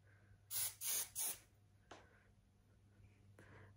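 Tress Tech Wig Wax Spray is sprayed onto a wig in three quick, sharp hissing bursts close up, followed by two softer, briefer spritzes.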